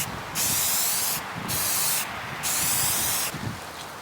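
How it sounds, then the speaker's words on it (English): Brake cleaner sprayed onto a neglected 1983 Honda Odyssey FL250 go kart outdoors on a cold windy day, four loud hissing bursts in a row with brief pauses between them. "Hit it with a little brake clean. Spraying."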